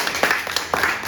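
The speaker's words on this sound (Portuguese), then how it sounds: "Palmas pra ele, gente." A small audience at a Portuguese-language talk session claps briefly, a dense patter of overlapping hand claps at close range.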